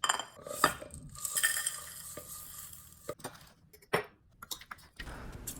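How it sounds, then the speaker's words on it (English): Whole curry spices toasting in a pan over medium heat, heard as scraping and stirring with dry rattling and light sizzle, broken up by sharp metallic clinks of a utensil against the pan, close and uneven, with no talking. "To start the spice mix, toast them in a pan on medium heat until they become smoky and fragrant."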